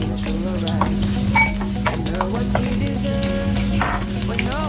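Golden tofu fries in a pan with steady sizzling, a constant hum underneath, and occasional stirring and clinks from the pan, close and fairly loud throughout.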